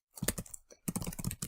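Close, quiet keystrokes on a computer keyboard as an age is entered, two short bursts of rapid clicks separated by a brief pause, with no voices.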